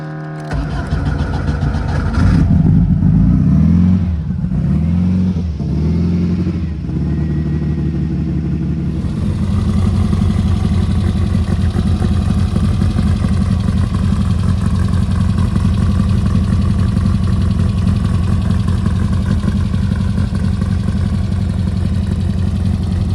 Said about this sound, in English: Now, let's see if it's got enough fuel in it, if the fuel pump will sound better, and crank this motor up